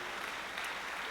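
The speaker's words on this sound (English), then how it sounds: "Let's give them another round of applause for that great piece." Steady applause fills the hall after a school band's piece at a high school spring concert, a dense, continuous clapping from a large audience throughout.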